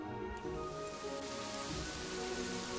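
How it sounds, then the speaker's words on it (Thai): Steady rain patters across the ground in the Kingdoms and Castles city-building game, a soft, continuous wash with tonal game music running beneath it and no voices. "อ้าวฝนตกครับ"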